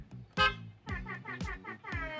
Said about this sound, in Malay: kita boleh set horn. Contoh horn sound DJ contohnya